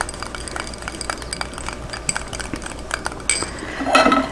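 A metal whisk clinks and scrapes against a pan while Mornay sauce is whisked, giving rapid, light, close metallic taps that grow busier toward the end.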